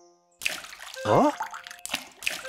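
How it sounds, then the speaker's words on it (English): Cartoon water splashing in a puddle: several short wet splashes and a bubbly, rising gurgle, close and moderately loud, with brief pauses between bursts. "Now Georgie knew the splashing sound meant water"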